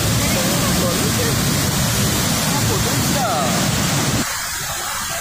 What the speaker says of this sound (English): you can just feel the power of this rushing water here